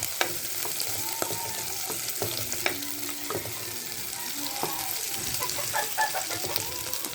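Garlic sautés in a hot pan in a country kitchen, a steady close sizzle with occasional spoon clinks and stirring, while a rooster crows faintly in the background.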